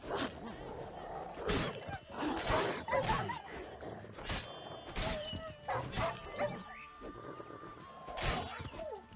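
Several dogs bark and yelp in sharp bursts amid crashing and scuffling noises in the video game The Witcher 3: Wild Hunt, busy and chaotic over a low background.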